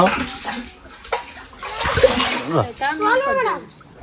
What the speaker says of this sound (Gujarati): ડોલ આપણે ભરી દેવાની